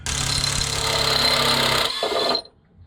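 A sway bar link pin bolt on a 1981 Ford XD is undone, heard as a loud, steady mechanical whirring and grinding that runs for about two seconds, then cuts off into near silence.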